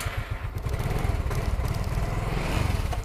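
A 2017 Yamaha X-Ride motorcycle engine idles steadily close by, a smooth, even low-pitched putter with faint mechanical clatter.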